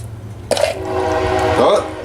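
Outdoors during cooking, a passing train sounds its horn, a loud sustained blast lasting over a second that swells and shifts pitch slightly as it goes by, with a faint low rumble underneath.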